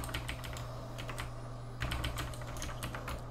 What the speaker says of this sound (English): I'm so sorry for how loud this keyboard is